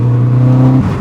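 A Renault Megane 3 RS Red Bull edition engine holds a loud, steady rev that briefly steps up in pitch before easing off, heard close and alone.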